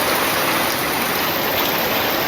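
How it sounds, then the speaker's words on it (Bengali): Heavy morning rain pours down steadily, a dense, continuous hiss and patter like rushing water that fills the whole clip at close range with no breaks. "সেই রকম বৃষ্টি হইতেছে"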